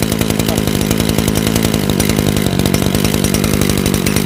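A hard-starting lawn mower engine runs loud and steady up close, its rapid two-stroke firing buzzing continuously with no pauses.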